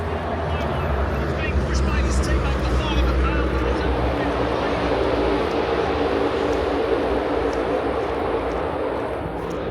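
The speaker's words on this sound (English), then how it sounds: "Gives you an idea how loud those cars are. You can hear them all the way out here." NASCAR stock cars racing at Daytona International Speedway heard from a distance as a constant low engine roar, loud and unbroken, with voices talking over it.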